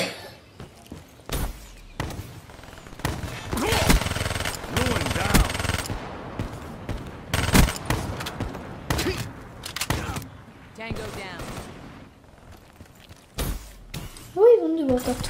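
Pistol fire from Call of Duty Black Ops 3 gameplay comes as sharp, loud bursts of shots at irregular intervals, mixed with other game effects, while a voice talks between them.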